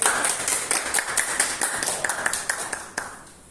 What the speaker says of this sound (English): Giving him a big round of applause.